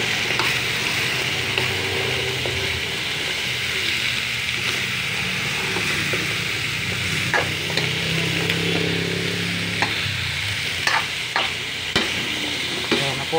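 Crab cooking in coconut milk with string beans, green chili and squash, with a loud continuous sizzle and bubbling and the scrape of stirring throughout.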